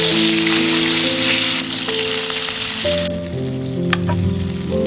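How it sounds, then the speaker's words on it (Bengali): Hilsa fish fry in oil in a pan, giving a loud, continuous crackling sizzle close by, with steady musical tones running beneath it. "প্রথমে ইলিশ মাছগুলো ভেজে নিচ্ছিলাম"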